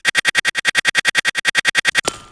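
A chopped glitch effect stutters in a fast, even rhythm of about eighteen sharp bright bursts, then cuts into a short smeared tail, loud and with no other sound.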